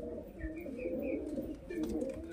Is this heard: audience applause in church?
no